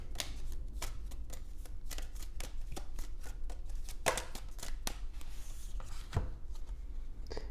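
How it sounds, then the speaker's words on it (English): A deck of oracle cards is shuffled by hand, giving a steady run of crisp riffling and slapping card sounds with repeated sharp flicks, close and continuous throughout with no talking. "Let's go ahead and get a few of these oracle cards."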